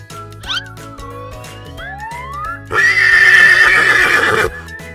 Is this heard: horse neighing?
yes